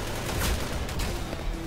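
Rapid gunfire in a Roblox game, a dense burst of loud, close shots filling the short moment with no talk over it.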